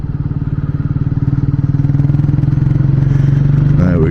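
A motorcycle engine idles low and steady in low gear with the clutch pulled in, a close, even throbbing pulse that holds for several seconds before a brief change near the end.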